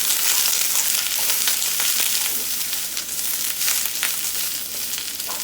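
Ramen noodles with onions and cabbage fry in oil over medium heat, a loud, continuous, close sizzle with crackling spikes as the pan contents are tossed around, and no talking.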